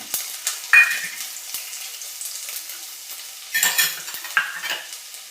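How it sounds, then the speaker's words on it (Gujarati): Chopped garlic dropped into hot oil for tempering a taro-leaf bhaji sizzles in bursts, with a spoon stirring and scraping the pan. Louder spurts come at intervals, and no one speaks. "હવે આપણે વઘાર કરી લેશું."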